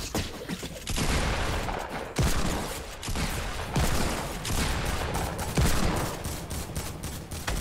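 Rapid, sustained gunfire from a Fortnite match on the Nuketown map, with dense bursts and repeated volleys running steadily through the whole stretch at close range.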